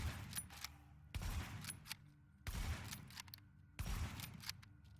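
In The Division, an M44 hunting marksman rifle fires four sharp shots at an even pace about a second and a quarter apart. Each loud crack rings out and decays before the next.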